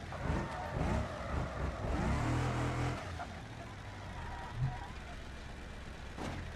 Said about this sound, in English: The engine doesn't sound healthy.